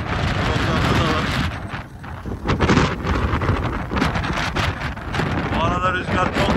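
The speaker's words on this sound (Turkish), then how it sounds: "Bu arada rüzgar çok fena." Strong wind buffets the microphone with heavy, rumbling gusts throughout an outdoor street scene in Antakya, Hatay, and a voice can be heard speaking beneath the roar.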